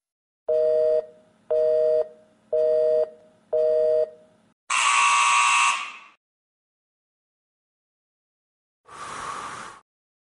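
Hearing test tones: four short, steady electronic tones in an even sequence, followed by two louder, buzzier bursts separated by a pause; no voices.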